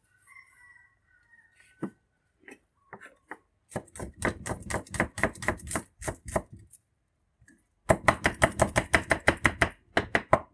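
A knife chops scallion bases on a cutting board, beating out quick, sharp, rhythmic knocks in two bursts after a few scattered taps. The sound is close and clear, with no talking.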